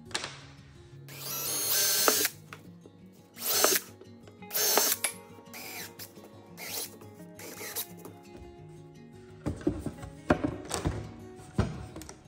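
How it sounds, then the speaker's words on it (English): Power drill driving screws to fasten a part onto a wooden guitar-building jig in a workshop, sounding as several short whirring bursts separated by pauses and handling clatter. "I think what I want to do now is screw this in place"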